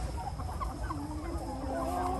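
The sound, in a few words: Binh Dinh chickens clucking, hens and roosters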